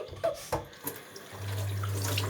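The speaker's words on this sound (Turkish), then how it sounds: "Şimdi bu limon suyunu dökeceğiz." Lemon juice is poured out while coins are being whitened. A few faint clinks come first, then a steady liquid trickle runs for the last second, close and soft.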